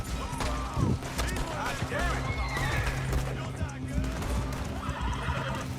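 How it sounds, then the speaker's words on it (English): A horse neighs and whinnies in the video game Red Dead Redemption, amid a busy, layered soundscape with hoofbeats and voices, loud and continuous throughout. "Horse!"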